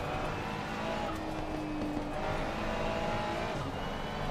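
An Aston Martin race car in a racing game at Spa, driven at full throttle through the corners, its engine roaring steadily and loudly for the whole stretch with no break.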